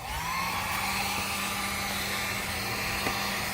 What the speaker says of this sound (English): You take your heat gun